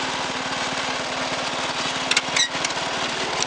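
A 1986 Toro 11-32 lawn tractor engine runs at a steady, rapid putter close by, with a few brief clanks and squeaks near the end.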